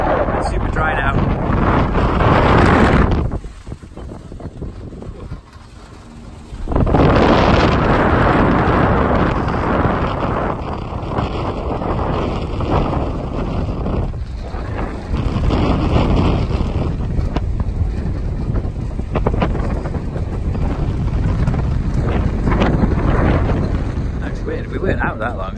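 Strong wind buffets the microphone on a Great Barrier Reef island shoreline at low tide, a loud roaring rumble that drops briefly and then surges back, sustained throughout with talk faintly underneath.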